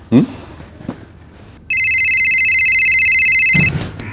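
A phone rings in a short electronic burst lasting about two seconds, clear and close, in a quiet indoor scene. Brief movement noises come before and after it.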